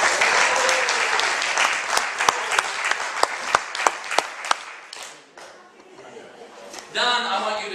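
A theater audience claps at a small-town stage show, starting with loud, dense applause and then thinning into a few sharp, separate claps before fading. A short burst of clapping and crowd murmur returns at the end, with some voices mixed in.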